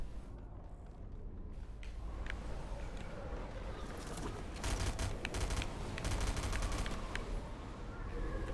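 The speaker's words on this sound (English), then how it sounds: "it's a shotgun of some kind" Gunfire in a Fortnite match, apparently a shotgun, cracks out as repeated bursts and single shots over a steady hum of game ambience, fairly close and loud throughout.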